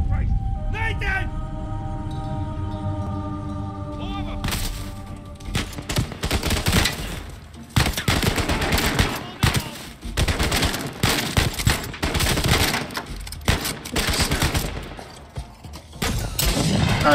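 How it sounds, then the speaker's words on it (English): Gunfire in the video game Uncharted 4: A Thief's End, where a sniper rifle is in play, a dense run of loud, sharp shots and bursts after a few calmer seconds, with a voice talking in places. "Yep, I will definitely use the sniper."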